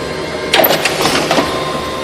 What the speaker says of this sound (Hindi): प्रिंटर में अटका हुआ कागज पूरी तरह से बाहर निकल गया